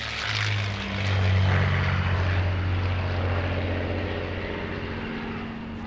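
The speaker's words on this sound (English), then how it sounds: "And this is the legendary Spitfire." A Supermarine Spitfire fighter's piston engine drones steadily at Duxford airfield, a loud continuous propeller roar with a low rumbling hum that swells slightly early on and then holds, with no voices.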